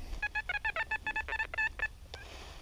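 XP Deus metal detector giving target tones, a rapid series of about a dozen short, clear electronic beeps that stop, then a single fainter blip.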